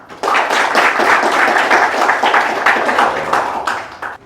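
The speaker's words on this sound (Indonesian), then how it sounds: "Boleh dong tepuk tangannya teman-teman." An audience applauds steadily after a personal story, dense clapping swelling in at once and holding for about four seconds before thinning and fading out.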